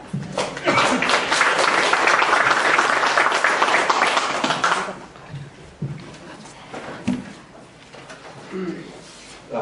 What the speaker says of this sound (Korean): 우리 강사님 나올 때 큰 박수 부탁드리겠습니다.